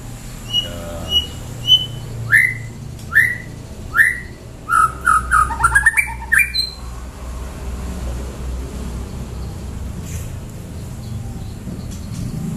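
White-rumped shama and bulbul birds singing together in one room: clear repeated whistled notes and rising chirps, close and bright, crowding into a quick run of calls before fading over a low steady background hum.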